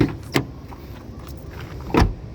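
A 2006 Isuzu seven-seat van door thuds shut twice, a solid close near the start and a louder, firmer slam near the end, with quiet in between.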